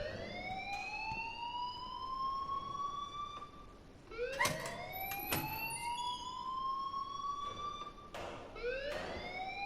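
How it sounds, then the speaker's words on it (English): A school fire alarm in the game Life Is Strange blares, with rising tones looping in steady cycles every few seconds. Brief clanks and thumps sound in the middle, and no one speaks. "please turn off that alarm since that's your job"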